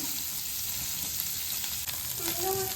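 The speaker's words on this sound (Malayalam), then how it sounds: "ഇത് നമ്മൾ 4 സൈഡും നല്ലോണം ഒന്ന് ഫ്രൈ ചെയ്തെടുക്കുന്ന മാതിരി എടുക്കണം" Cubes of paneer frying in a pan for paneer butter masala give a steady, close sizzle with light crackle, and a brief stirring scrape near the end.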